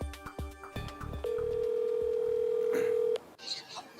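A steady telephone dialing tone drones for about two seconds before a call is answered, preceded by short clicks and bumps and followed by a brief faint flutter.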